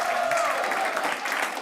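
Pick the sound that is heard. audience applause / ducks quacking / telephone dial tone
audience applause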